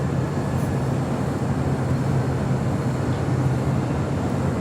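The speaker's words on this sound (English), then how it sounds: "Looks like Air France heading to the south side for a departure." An Air France airliner taxiing for departure at LAX, a steady broadband engine rumble with a low drone that stays even and continuous at moderate distance.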